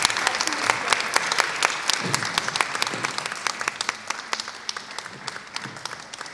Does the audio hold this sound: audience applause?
yes